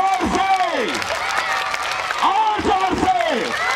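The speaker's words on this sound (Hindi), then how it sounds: "जोरदार तालियां, हाथ ऊपर करके" Students in grades 5 to 7 clap at an annual school sports day, a steady patter under loud voices calling out in rising and falling shouts, all close and busy.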